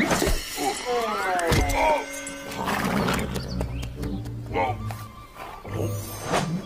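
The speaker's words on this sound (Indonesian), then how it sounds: "This is a horse." A toy horse from a Jurassic World Dominion dinosaur toy set lets out an electronic neigh with whinnying pitch sweeps, mixed with clattering toy noises and a voice talking nearby.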